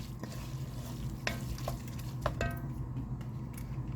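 Garlic being stirred into turkey burger soup in a pot, a soft continuous simmering sizzle with a few distinct spoon scrapes and clinks against the pot, close and fairly quiet.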